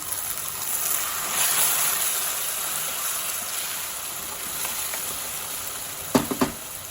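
Tomatoes sizzling in a pan while cooking chicken curry: a steady, moderate frying hiss runs throughout, with a couple of short clanks or stirring knocks near the end.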